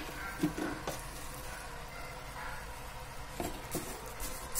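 Food frying in a pan while a sweet potato sweet is cooked, a faint steady sizzle with a few soft stirring clinks and scrapes close by.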